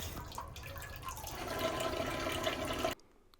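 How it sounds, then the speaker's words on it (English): A toilet tank foam dispenser gurgles and hisses as foam and bubbles release into the tank, a steady watery rush that swells and then cuts off abruptly, close and alone. "with just the push of a button, the foam and bubbles come out"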